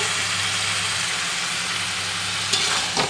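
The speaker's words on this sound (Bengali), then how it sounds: "এখন অনেকক্ষণ ধরে আমি কষাবো, একটু করে জল দেবো আর একটু করে কষাবো" Chicken masala being stir-fried in a pan with small splashes of water, a steady close sizzle throughout with a couple of brief scraping stirs near the end.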